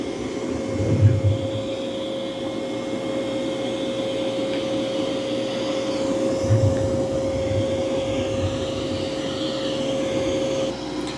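A Dreame Matrix 10 Ultra robot vacuum works across carpet with its side brush spinning, giving a steady close whirring hum with a constant tonal whine and a few soft low bumps as it moves.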